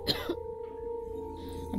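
A video game character in Silent Hill 2 coughing, with two or three short, faint coughs over a quiet, steady hum.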